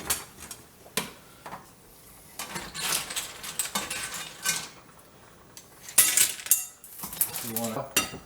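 Metal tongs clink and scrape against a pan while tomatoes and clams are handled for linguine alle vongole with garlic and clam broth, giving scattered close taps and clatters with quiet gaps between them.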